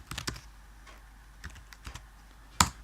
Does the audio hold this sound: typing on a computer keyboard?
yes